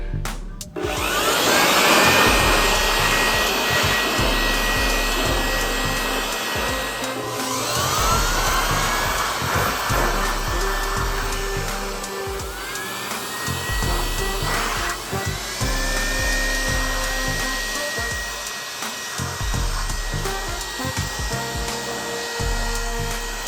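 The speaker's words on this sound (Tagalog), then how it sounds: "Second to the last step, blower." A loud air blower roars continuously and close by while drying a washed Yamaha Fazzio scooter, its pitch shifting slightly as it sweeps back and forth.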